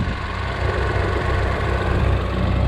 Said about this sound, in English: Yeah, the engine's running.